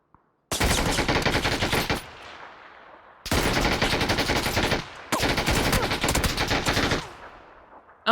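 Automatic gunfire in the video game PUBG rips out in three long, dense bursts, very loud and close, each cutting off into a fading echo, with no voices.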